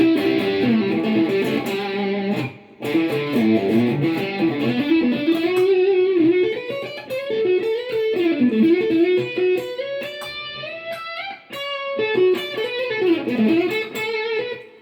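Electric guitar played through a crunchy distortion setting, with no hum in the setup. Sustained notes and melodic runs ring out loud and alone, with brief pauses between phrases.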